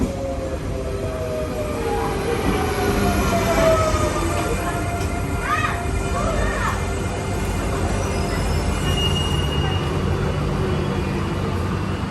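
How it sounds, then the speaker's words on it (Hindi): A train pulling into a station in Lyon, France, with a steady loud rumble and rising and falling tonal squeals of wheels and brakes, close and continuous. "काफ़ी पंक्चुअल थी ट्रेन, तो समय पर आ गई"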